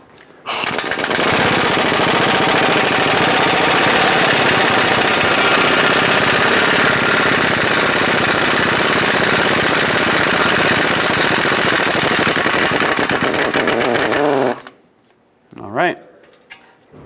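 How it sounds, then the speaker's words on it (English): An impact wrench fitted with a 14mm socket rattles steadily at low power while loosening a rusty bolt on a Subaru Crosstrek front lower control arm, one continuous loud burst that stops abruptly, followed by a brief voice. "a 14mm socket on an impact with very low power should help you break this free"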